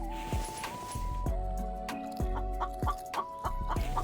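A chicken in the survival video game The Infected clucks in a short run of sharp, separate calls spaced across a few seconds, up close and clear, with no talk.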